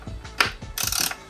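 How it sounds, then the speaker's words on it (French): Ratchet wrench working 10 mm bolts on a BMW E46 330i, a quick series of close, crisp metallic clicks in bursts, ending in a faster rattling run. "Alors on va dévisser les 4 boulons"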